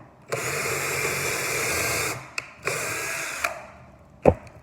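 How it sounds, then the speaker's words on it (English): A power drill whirs steadily into wood while building a Z barn door, two long runs, each ending with a short clatter, then a sharp knock; close and loud with no talking. "And drill right on in there."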